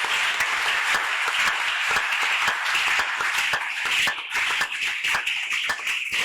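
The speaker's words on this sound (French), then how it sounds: "Est-ce que tu peux acclamer pour le Seigneur Jésus?" Church youth congregation applauding and cheering for the Lord Jesus, sustained loud clapping with crowd noise throughout and a brief dip midway.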